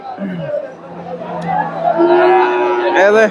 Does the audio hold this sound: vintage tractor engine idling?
no